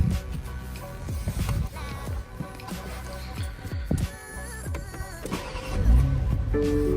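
A 2020 BMW X5 G05 40i starts up amid cabin noise: mechanical whirs and clicks, then a low rumbling surge as the engine fires and settles into a steady idle.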